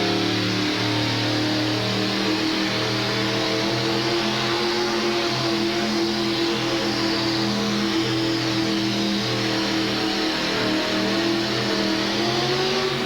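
A pulling truck's engine at a 1988 truck and tractor pull in Denver, Colorado, roaring steadily at high revs for the whole stretch, loud, close and continuous with no break.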